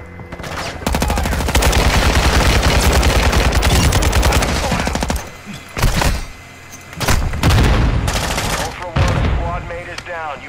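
Dense, sustained automatic gunfire from a video game roars loud and close for several seconds, then breaks into shorter bursts with pauses between them.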